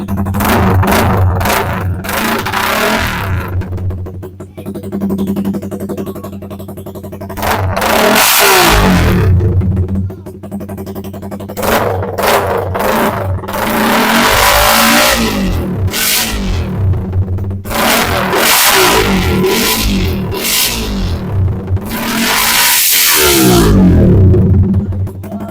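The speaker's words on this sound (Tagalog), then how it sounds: "Okay, so yun po yung tunog ng JXP super open pipe natin mga boss." A loud Suzuki Raider 150 Fi motorcycle with a Jecspeed open exhaust pipe revs repeatedly, rising and falling in bursts between rough idling, close up and continuous.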